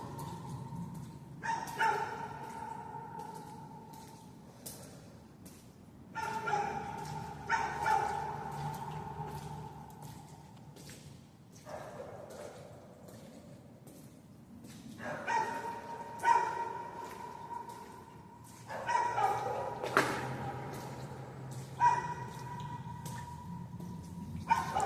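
Dogs bark in repeated bursts inside an underground culvert. The barks come in irregular clusters with pauses between them, sound moderately distant and echoing, and include a few yips and whimpers.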